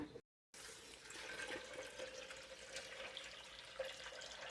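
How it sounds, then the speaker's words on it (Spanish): Tap water runs steadily into a small jug in a home kitchen while making chicken noodle soup, a continuous close hiss of filling water with faint trickles, after a brief silent gap at the start. "Llenamos esta jarrita de agua para que hierva rápidamente."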